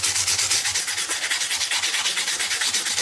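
Guitar frets being sanded with 600-grit sandpaper: quick, even back-and-forth scratchy rubbing strokes in a steady rhythm, close and continuous, with no talking.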